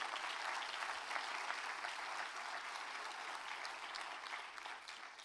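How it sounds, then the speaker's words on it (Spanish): During an evening church service, the congregation claps for the Lord in a broad, continuous wash of applause that stays even and fades slightly toward the end, with no voices on top. "Dele ese aplauso al Señor."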